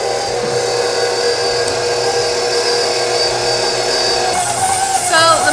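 An electric mixer running on slow speed through edible cookie dough, a steady mid-pitched motor whir with a brief shift near the end, close and continuous, without speech.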